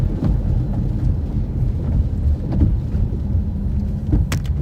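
Strong storm wind during an Iowa storm chase buffets continuously, a loud rumbling roar with gusty swells and a few brief knocks, no voices.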